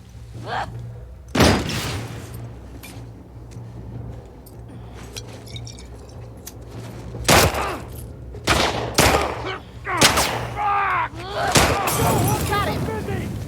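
Heavy shotgun blasts ring out in The Last of Us Part II, a few loud, sharp bangs spaced irregularly among other combat noise, with a low steady hum beneath and speech in places.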